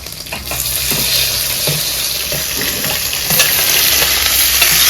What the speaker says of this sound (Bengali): এই যে দুইটা কাঁচা লঙ্কা আর পেঁয়াজ দিয়ে দেবো